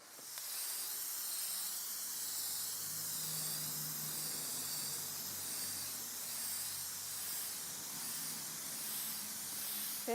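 Aerosol can of Krylon matte clear coat sealer sprayed onto a thrifted home decor piece, a steady soft hiss running nearly continuously at close range with no talking.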